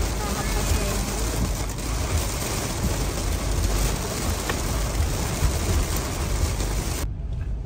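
Steady rain falls in a hilly outdoor spot, a constant dense hiss throughout that cuts off abruptly near the end.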